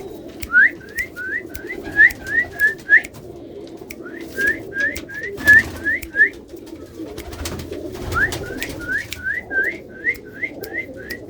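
A fancier's pigeons call close by in repeated bursts of short, rising, whistle-like coos, several in quick succession with brief pauses between groups.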